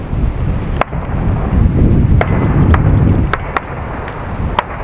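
Outdoor wind buffeting the microphone at an airgun range, a loud continuous roar with gusty swells, punctuated by a few sharp brief clicks.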